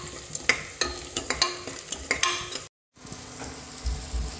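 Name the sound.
onions frying in a pan for egg biryani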